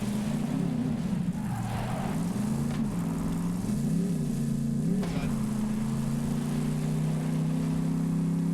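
A video game car engine revs steadily while the car sits stuck, its droning hum rising and falling in pitch for a few seconds before holding a constant loud tone to the end.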